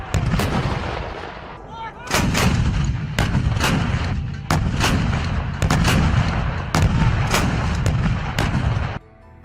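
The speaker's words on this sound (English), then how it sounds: "Shells began falling across the village, striking areas where Ukrainian troops had been observed." Artillery shells fall on a village, a rapid succession of loud booming blasts and cracks, roughly a dozen impacts in irregular bursts with rumbling between them, close and heavy.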